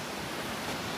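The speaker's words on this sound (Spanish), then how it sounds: "Qué hermosa la cascada." A waterfall rushing in a forest, a steady broadband roar of falling water that stays even and fairly loud throughout, with no voices over it.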